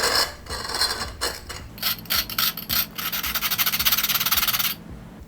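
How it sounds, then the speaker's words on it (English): A cut glass bottle's top edge is sanded flat by hand, giving a steady rasping rub in short strokes that turns into a continuous fast scrubbing before stopping abruptly; loud and close, with no talk. "I'm trying to sand the very top of it flat."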